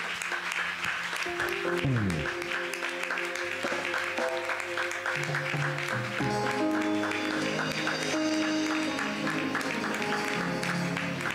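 Applause from a church congregation welcoming a family for a baby dedication, mixed with organ or keyboard music playing sustained chords throughout.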